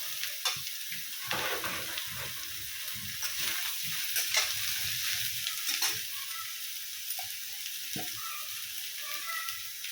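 Ridge gourd and potatoes fry with browned onion in a pan, a soft steady sizzle overlaid by intermittent spatula knocks and stirring scrapes close by, nobody speaking.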